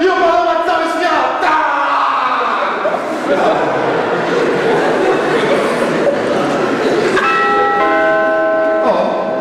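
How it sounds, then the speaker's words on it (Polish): A bell rings loudly in a school sketch performance, its tolling tones sounding alone at first and then under lively talk and chuckles from the performers and audience. "Dzwonek?"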